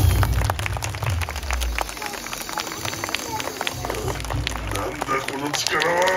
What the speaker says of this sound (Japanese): 大きな拍手で応援して